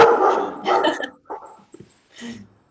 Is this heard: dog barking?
yes